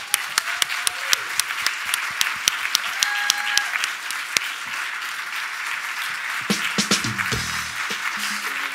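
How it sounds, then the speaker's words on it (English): Sustained applause from a conference audience at a closing plenary session on summer mental health and well-being, dense steady clapping with sharper individual claps standing out, lasting throughout at moderate loudness. "Give them a great round of applause."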